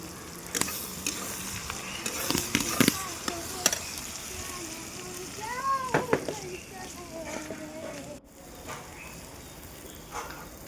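Mutton pieces fry in a hot pan over onions browned with salt and turmeric, giving a steady close sizzle broken by repeated sharp clanks of stirring, with faint background sounds and no speech.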